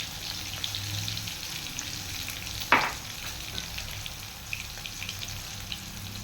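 Coriander seeds sizzling in a hot pan alongside cumin, a soft steady frying crackle close by with one brief sharper pop partway through, no talking.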